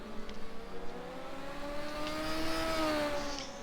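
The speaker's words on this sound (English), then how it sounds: "Listen to the howl of the superbike engines as they come flying down the straights." Superbike engines howl on the straights of an oval racetrack, a sustained rising and falling whine that builds toward the end as machines pass close by.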